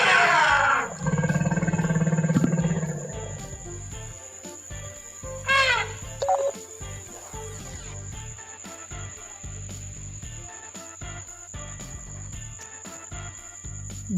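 An elephant sound effect: a loud low rumbling roar near the start, then a brief trumpet-like blast, with chirping insects continuing in the background.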